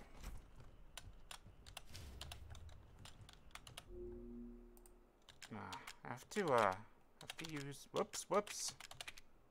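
Computer keyboard keys pressed during a Resident Evil 7 play session: faint, irregular clicks and taps in short bursts, with someone talking quietly over the later part.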